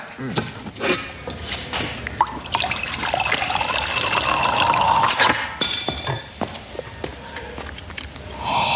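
Water is poured into a cup in an indoor scene, a steady splashing trickle lasting several seconds amid other room sounds.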